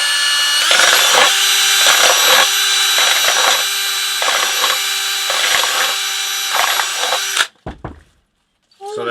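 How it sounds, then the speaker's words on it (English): A power drill whines at high speed as its bit bores down through a stack of plastic cups, steady and loud with brief bumps as it catches, then stops abruptly followed by light clattering. "take the length of your drill bit, stack up these cups, and then drill right into a whole stack of them"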